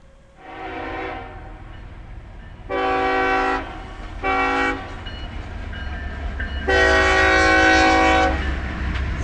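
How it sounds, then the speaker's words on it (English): A train rumbles past steadily while its horn sounds in four loud blasts, the last one long and held, over continuous wheel noise. "It's the choo-choo train again."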